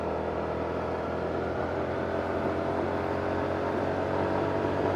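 A 2019 Yamaha Sniper motorcycle engine pulls hard in third gear near 7,000 RPM while climbing a wet road, a steady, muffled drone under wind rush with no talking.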